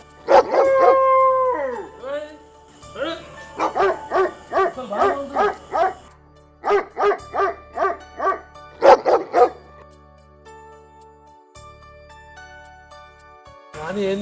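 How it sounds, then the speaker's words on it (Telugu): Several dogs howl loudly and nearby in long, wavering cries, broken by repeated barks and a faint jingle, before fading into a quieter stretch near the end. "ఏంది కుక్కలు బాగా ఉడుతున్నాయి"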